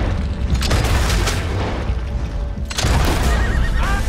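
In Red Dead Redemption 2, an explosive slug fired from a shotgun booms amid a panicked horse's loud neighing and whinnying, with a second heavy blast near the end over continuous chaotic noise.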